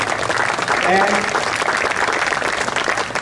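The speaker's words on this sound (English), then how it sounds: "Give him a round of applause." A convention audience of tennis coaches applauds after a speaker's thanks, a dense, continuous wash of clapping that swells slightly early and then holds steady.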